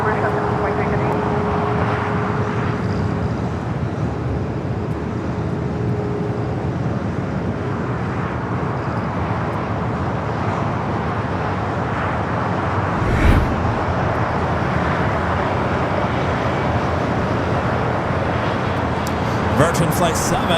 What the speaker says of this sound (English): Virgin Flight 7, the flight coming from London Heathrow, the A350-1000 up next for arrival.